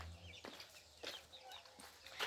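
Farmyard chickens and turkeys cluck in short, scattered bursts, fairly close, with faint background noise and no clear talk.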